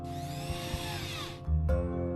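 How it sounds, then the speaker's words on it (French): A power driver whirring as it drives screws through steel washers into a wooden board, a close steady motor whine that stops briefly, then restarts with a low humming buzz. "On visse les vis dans la planche en laissant un petit espace."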